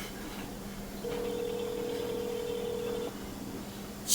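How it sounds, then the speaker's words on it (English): A telephone line rings on a call, one long steady ring tone that lasts about two seconds over faint line hiss, with a short quiet stretch before and after. "now the line is just ringing"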